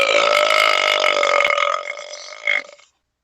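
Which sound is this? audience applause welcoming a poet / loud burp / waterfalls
loud burp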